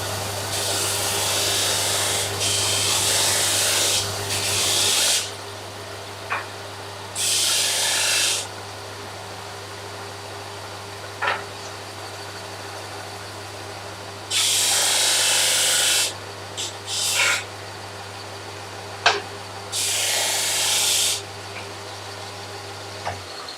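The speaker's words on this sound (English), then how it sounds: "I'm just going to go to my drum sander, which is just my desk sander, which is in the corner there." A desk drum sander in a woodworking shop grinds the end of a wooden board in several loud bursts of a few seconds each, separated by quiet gaps with a steady low hum and occasional small knocks.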